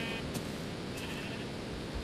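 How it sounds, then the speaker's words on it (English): Sheep in the Minecraft video game bleat in a few short, quiet calls over steady broadband game noise and hiss. "Get in here, sheep."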